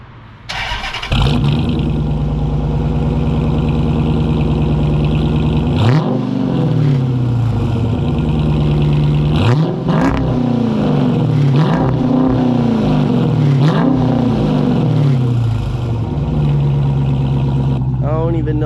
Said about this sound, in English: I'm gonna give y'all a couple revs now that we're not in my fucking driveway